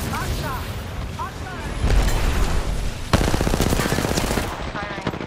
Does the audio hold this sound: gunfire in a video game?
yes